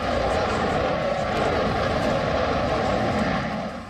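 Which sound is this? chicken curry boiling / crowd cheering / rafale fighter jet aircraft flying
rafale fighter jet aircraft flying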